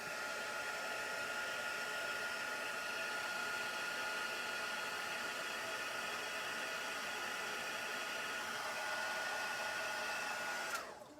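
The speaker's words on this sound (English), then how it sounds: "Get the heating tool." A heat tool blows over a stamped craft card, a constant close whooshing hiss that holds steady for about eleven seconds before cutting off abruptly at the end, with no talk.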